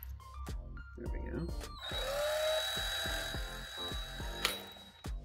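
A power drill whirs steadily for a few seconds at close range, starting and stopping, with rhythmic thumps and clicks around it.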